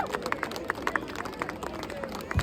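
Scattered clapping from an audience at a Ganesh laddu auction in Canada, uneven claps rising and fading over a murmur of crowd chatter, fairly close but not loud.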